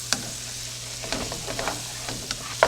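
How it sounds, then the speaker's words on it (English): Onions frying in a pan give a steady sizzle while a utensil scrapes the pan bottom in short, repeated strokes, with a few sharper knocks and a low background hum. "just make sure you're getting all those little bits on the bottom of the pan scraped up"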